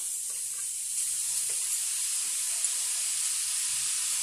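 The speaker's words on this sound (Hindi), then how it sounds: "अब इसमें हम डालेंगे ग्रेट की हुई ये कैरोट," Freshly grated carrot drops into a pan of sizzling coconut, giving a soft, steady hiss and crackle of frying in the background while a few faint stirring sounds come through. No one speaks.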